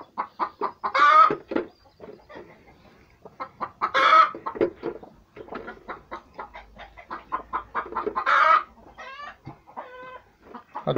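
Chickens cluck steadily in a rapid, uneven patter, with a few louder squawking calls breaking through at intervals.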